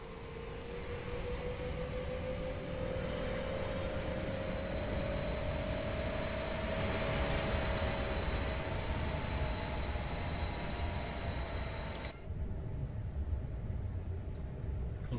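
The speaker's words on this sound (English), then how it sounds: "There we have it, train accelerates." A train accelerating in the video game Train Sim World, on the S-Bahn Zentralschweiz line from Luzern to Sursee: a steady rumbling run with a rising motor whine and a thin high tone, which cuts to quieter rolling noise near the end.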